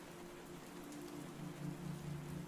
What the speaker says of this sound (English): It started raining, hard.